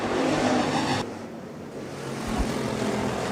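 USRA Hobby Stock race cars in a heat race at Rapid Speedway, engines roaring under green, a loud dense pack that drops abruptly and then builds again, no voices.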